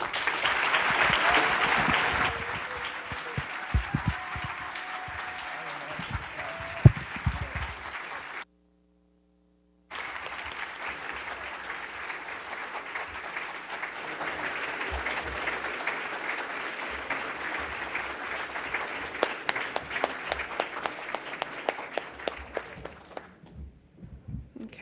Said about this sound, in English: So just one more round of applause for our 3 sets of speakers.